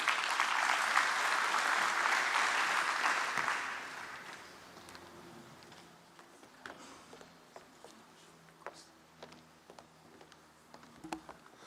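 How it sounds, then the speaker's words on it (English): An audience at a national transport conference applauds as the Deputy Minister comes on stage, loud sustained clapping for about four seconds that then stops, followed by quiet room noise with scattered ticks and footsteps. "As we welcome on stage the Deputy Minister, and a round of applause for that."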